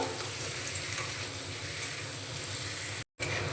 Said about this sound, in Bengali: ভেজে রাখা আলুগুলো দিয়ে দেব আলুগুলো একটু মশলার সঙ্গে ভালো করে কষিয়ে নেব